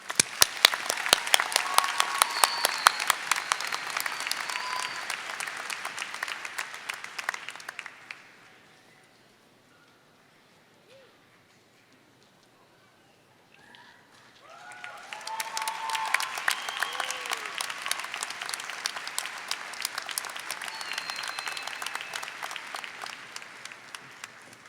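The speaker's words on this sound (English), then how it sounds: "Let's give him a round of applause." Loud audience applause at a 2017 high school graduation ceremony, a dense clapping wash that fades away to near silence midway, then swells back up and continues steadily to the end.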